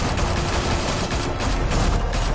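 A Batman video game firefight produces dense, sustained gunfire, a loud rapid volley of overlapping shots that barely lets up across the whole moment.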